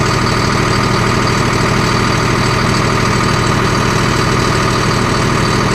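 A John Deere CRDI tractor engine runs steadily at a held speed, unable to rev beyond about 1500 rpm, a loud, continuous close-up drone with a dense mechanical rumble and no change in pitch.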